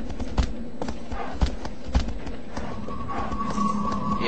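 Horse hooves from the Shadow of the Colossus video game sound as a few sharp, spaced clops over a steady game backdrop, followed by a sustained tone.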